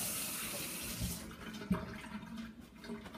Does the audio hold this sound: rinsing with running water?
yes